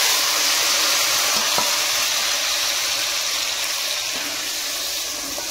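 Ground misal masala hits hot oil in a pan with a loud, steady sizzle that fills the whole stretch, with no talking.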